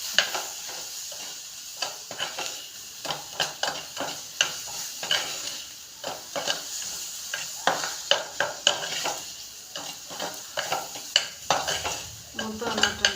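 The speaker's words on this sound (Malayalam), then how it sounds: "ഇളക്കി കൊടുക്കാം." Turmeric masala stirred in a frying pan makes a steady sizzle, with a spoon repeatedly scraping and tapping the metal in an irregular rhythm, close and moderately loud, with no talking.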